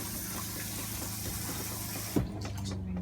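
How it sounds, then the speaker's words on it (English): A Winnebago Micro Minnie 1700bh RV toilet is flushed by pressing its foot pedal all the way down, giving a steady rush of water that runs through the whole moment, with a short sharp knock partway through. "All the way down, flushes it."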